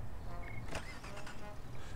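A car in the video game Flipping Death gives off a short whirring, motor-like sound with a few brief mechanical accents, fairly quiet and without speech.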